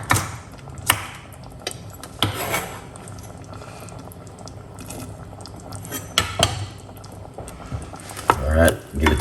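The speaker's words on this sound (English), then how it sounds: "Alright, give it a stir." Stirring stewed kidney beans with spring onion and peppers in a pot: irregular scraping and clinking of a spoon against the pan over a soft simmering bubble, close and moderately loud, with no talk.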